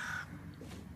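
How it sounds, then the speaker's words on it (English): A crow or raven caws once in a fantasy film battle scene, a harsh, close call at the start that trails off into quieter background sound. No speech. "a crow or a raven or whatever"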